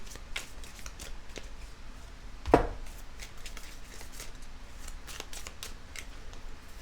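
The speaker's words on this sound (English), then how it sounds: "We're going to draw 2 more tea leaf cards for you" Tea leaf oracle cards are drawn and shuffled from a deck with soft papery slides and flicks, plus one sharper snap partway through, close and fairly quiet with no talking.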